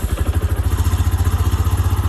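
An old Honda engine on full choke runs in freezing weather of about 3 degrees, with a loud, close, steady rhythmic chugging idle and no voices.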